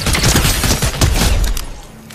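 Rapid bursts of gunfire in Fortnite Chapter 4 Season 4, loud and close, dense overlapping shots with booming impacts that ease off toward the end.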